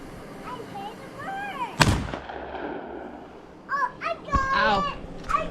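A single sharp gunshot fired at an old boat moved by tractor, loud and close, followed by a ringing tail, with children's and adults' voices chattering before and after.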